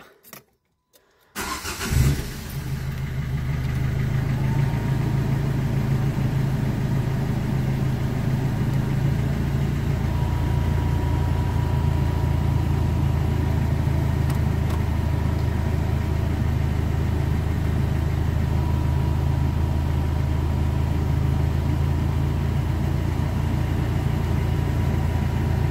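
A Renault Clio 3 dCi diesel engine cranks and catches after a brief silence, then settles into a steady, loud idle with an even rumble that shifts slightly partway through, with no talk.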